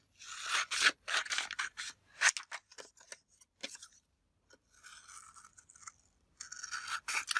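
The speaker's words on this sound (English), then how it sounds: "And now I'll cut that out." Scissors cut out a piece of cardstock in uneven bursts of close, crisp snipping and rasping strokes, broken by short pauses. No voices.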